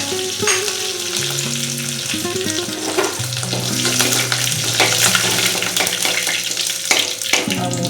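Mustard seeds, dried red chillies and curry leaves frying in hot oil for a Kerala tomato rice, a steady close sizzle with crackles and stirring clatter, alone without voices.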